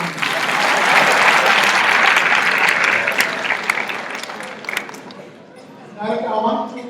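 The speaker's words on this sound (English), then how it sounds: "Please applaud him for good work done Friday afternoon." An audience at a regional governor's address bursts into loud sustained applause that slowly thins and fades, then swells briefly again near the end, with some voices mixed into the clapping.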